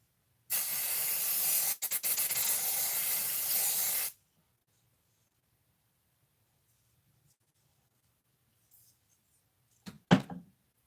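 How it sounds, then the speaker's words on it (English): Smith & Cult powder setting spray released in one loud, continuous hiss lasting about three and a half seconds with a brief flutter partway, then near silence broken by a soft knock. "setting spray"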